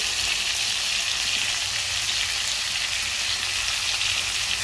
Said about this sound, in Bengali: ভালো করে আমি মশলাটা কষিয়ে নেব।